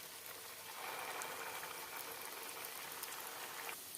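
Semolina breakfast snacks fry in hot white oil in a pan, giving a steady, dense crackling sizzle like light rain, with no voices.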